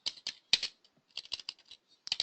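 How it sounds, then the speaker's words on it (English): Close, crisp keystrokes on a computer keyboard tap out a sentence into an interactive quiz question, arriving in quick irregular clusters with brief pauses between bursts and no voices. "let's type the sentence."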